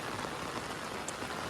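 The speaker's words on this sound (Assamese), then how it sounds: "বৰষুণ দি আছে কিন্তু চাই লওক আপোনালোকে গাইজ বৰষুণ চাওক" Heavy rain pours steadily onto surfaces nearby, a dense, even hiss of drops with no pauses or voices.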